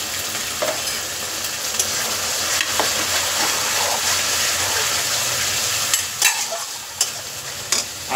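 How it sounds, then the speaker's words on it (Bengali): Chicken curry masala with slit green chillies, turmeric and salt being stirred and sautéed in oil, a continuous close sizzle of frying broken by scraping stirs and occasional clatters. "আর একটু কষিয়ে নেব।"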